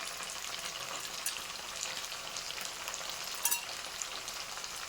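Onion and tomato pieces frying in a pan of oil for a fish pulusu, a steady close hiss and crackle with a few sharper sizzling bursts, no voices.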